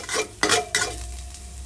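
Garlic sizzles in a hot pan while a utensil scrapes and stirs, with a couple of sharp clanks against the metal.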